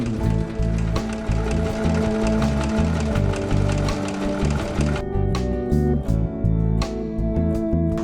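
Sewing machine stitching shoulder seams onto a shirt, a fast, steady mechanical rattle running continuously and close, with a slight change in tone partway through.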